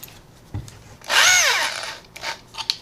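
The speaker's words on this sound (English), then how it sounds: "You can hear the power that this thing has compared to even just this one itself." A hammer drill fitted with a masonry bit whirs briefly for about a second, its pitch rising and falling as it spins up and down, with faint clicks around it.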